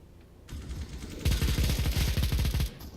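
Negev machine gun fire in Counter-Strike: Global Offensive, a short burst and then a longer, loud, rapid stream of shots that cuts off abruptly.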